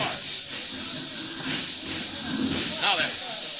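Steady, loud steam hissing fills a radio drama scene as a broad continuous rush from a hose line, with a voice speaking faintly beneath it near the end.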